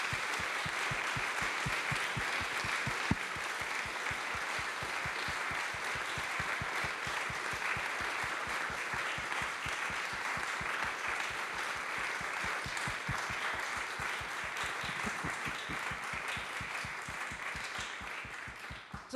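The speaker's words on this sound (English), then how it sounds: "please help me in applauding Nanya and her team" Sustained audience applause at a startup demo day event, dense steady clapping from a large crowd lasting many seconds without a break.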